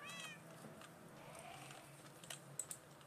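A cat in a video game meows faintly near the start, then a few soft tapping sounds follow over a low background hum.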